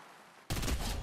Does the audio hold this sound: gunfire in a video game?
yes